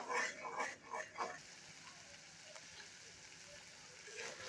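Spiced masala paste fried and stirred in a pan for a Bengali rui fish belly kalia curry, a faint steady sizzle with a few soft scraping strokes early on.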